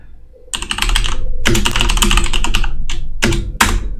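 Rapid clattering keystrokes on a computer keyboard, typed in bursts with short pauses between, close and crisp.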